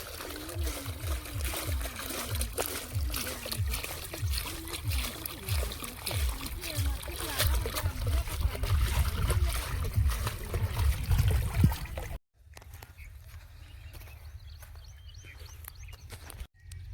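A farm motor pump pours water into a field being readied for chilli seedlings, a steady splashing gush under a low engine drone, then a sudden drop to a quieter trickle and faint hum near the end.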